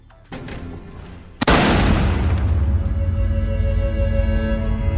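A single loud, close gunshot in a Walking Dead scene, a sharp blast followed by a long rumbling, ringing tail over low background noise.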